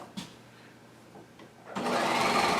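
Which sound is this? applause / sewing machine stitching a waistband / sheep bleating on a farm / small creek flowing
sewing machine stitching a waistband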